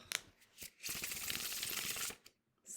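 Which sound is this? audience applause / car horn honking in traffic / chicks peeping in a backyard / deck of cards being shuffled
deck of cards being shuffled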